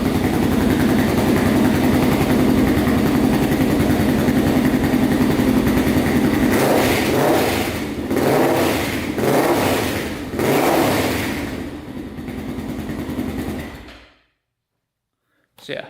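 A 416cc big-bore Honda 400EX ATV engine runs steadily, then revs up and down in four quick bursts before cutting off abruptly into silence.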